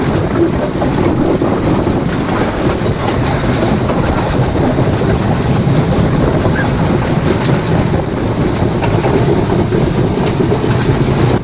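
A Sri Lankan railway train runs along the track near Colombo, heard from beside an open door: a loud, continuous rumble with rhythmic wheel clatter that never lets up, and no talk.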